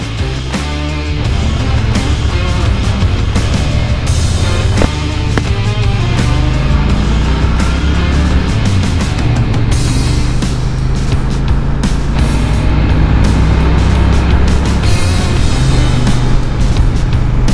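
Steady, loud engine drone and wind rush from a Kawasaki Vulcan Nomad 1500 motorcycle being ridden, the cruiser's rumble holding throughout with slight shifts in pitch as it accelerates.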